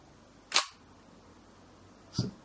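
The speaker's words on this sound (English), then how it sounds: "you'll hear the difference in sound as I operate the shutter" A film camera shutter fires with a sharp clack, followed a moment later by a second, softer mechanical snap, from a Zorki or Leica Barnack-type rangefinder.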